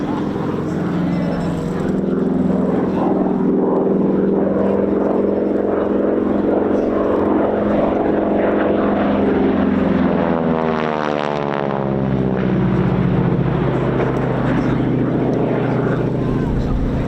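A Harvard propeller trainer flies past at a historic airshow, its radial engine droning steadily and swelling loudly as it passes close, then the pitch sweeps down as it recedes, with a commentator talking over it.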